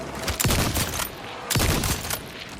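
Two separate bursts of video game gunfire are heard close and loud, each a tight cluster of sharp shots about a second apart, with no talking.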